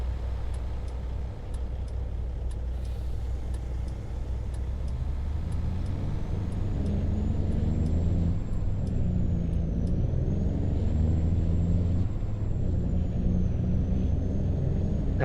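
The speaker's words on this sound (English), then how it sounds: "I see we have some rush hour traffic here this morning" Rush hour road traffic in the Farming Simulator 25 video game, a steady low rumble of engines with a truck's air-brake hiss and a rising whine midway, plus a row of faint regular ticks early on.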